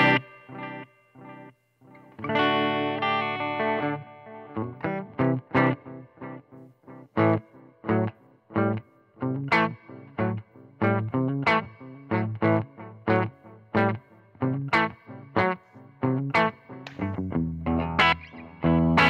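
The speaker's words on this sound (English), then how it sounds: "Take this reverb down and just use the delay from this pedal" An electric guitar runs through an Earthquaker Dispatch Master pedal with its reverb turned down and only the delay in use, playing chords and short plucked notes whose echoes trail after each one, with no talking.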